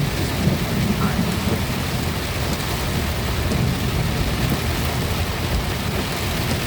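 Heavy rain pounds steadily on a car during a thunderstorm while driving around Metairie, with low thunder rumbling underneath the constant, close downpour.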